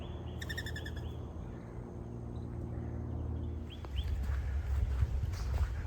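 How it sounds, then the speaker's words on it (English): Birds chirp and call in short repeated bursts on a Florida morning over a steady outdoor background hum, fairly distant, with no talking. "You can hear all the birds chatter, chirp, whatever it is that birds do."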